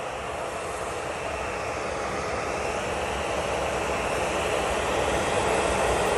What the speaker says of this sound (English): next out we have this Jet2 off to Dubrovnik